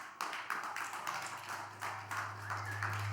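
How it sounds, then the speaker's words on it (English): Audience applause welcomes panelists onto the stage at a music conference panel: steady, moderately distant clapping across the whole stretch over a low, constant electrical hum, with no talking. "So please welcome them with a warm applause."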